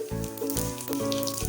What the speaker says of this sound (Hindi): हमारा तेल गर्म हो चुका है। अभी हमने जीरा डाल दिया है, थोड़ी सी अजवाइन डाल दी है।